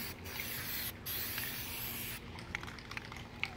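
Aerosol can spraying a second coat of Plasti Dip onto the wheels of a 2018 Ford Explorer: steady close hissing bursts with brief pauses, then quieter ticks and drips.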